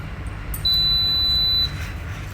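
An air fryer signals it has finished preheating with a single sustained high-pitched beep lasting about a second, clear and close against a quiet kitchen background.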